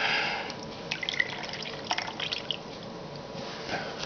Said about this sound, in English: you got to blow air into the filter